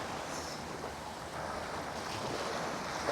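Rising tide waves washing at the sea, a steady broad hiss of surf with wind noise, moderately quiet and continuous, no voices.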